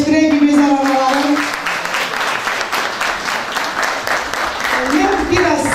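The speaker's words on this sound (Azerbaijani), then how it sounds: "Bir alqışla əyləşdirək bir gözəl analarım" An audience at a book presentation and poetry gathering claps together in a dense, steady round of applause. It fades slightly midway and swells again, with a voice speaking over it at the start and end.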